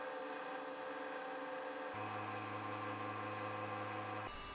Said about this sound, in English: you can hear that once the motor gets up into the 4400 and 6300 RPM range, it doesn't sound happy